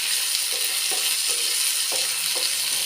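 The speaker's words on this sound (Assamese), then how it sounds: "এইখিনি অলপ ভাজি আছোঁ ভালদৰে ভাজি" Small fish fry in a pan with a dense, continuous high sizzle, and a few soft clicks and taps from the pan come through underneath at a steady level.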